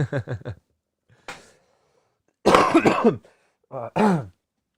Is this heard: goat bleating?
no